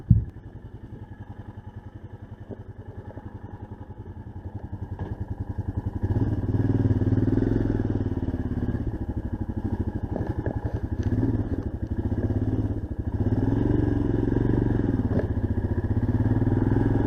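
A motorcycle being ridden, a steady low engine drone with wind rumble, rising in load partway through and holding a loud, even throb for the rest of the ride.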